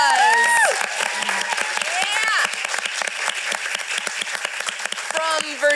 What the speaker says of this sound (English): Let's give Casey Beach Clark a round of applause.